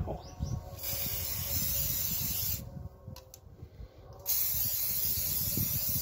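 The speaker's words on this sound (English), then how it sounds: "and then we spray it about 8 inches, 20 centimeters, and wait 30 minutes, and then we spray it again" Colouring and waterproofing spray hisses onto black Blundstone suede boots in steady bursts, with a brief quieter pause midway before spraying resumes close up and loud.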